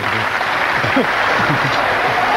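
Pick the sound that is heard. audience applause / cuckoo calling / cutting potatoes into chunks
audience applause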